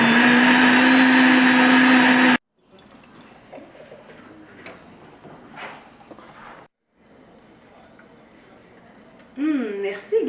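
A kitchen blender mixing food runs loud and steady for about two seconds, then cuts off abruptly, and speech continues afterward.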